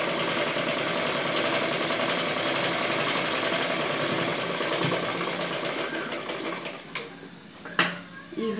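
Sewing machine stitching blouse fabric, a loud, fast, steady mechanical clatter running continuously, then slowing with a few distinct thumps and clicks as it stops near the end.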